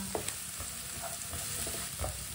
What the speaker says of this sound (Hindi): प्याज को 1 मिनट के लिए पका लेंगे चम्मच चलाते हुए